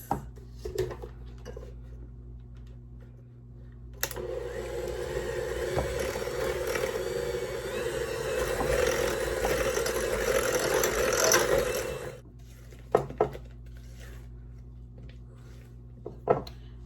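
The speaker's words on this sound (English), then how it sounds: "We'll go ahead and give it another mix." An electric mixer whirs steadily through banana muffin batter for about eight seconds, with faint kitchen clatter before and after.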